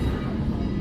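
A train rolls along rails in Strasburg, Pennsylvania with a loud, steady, heavy rumble heard from close by.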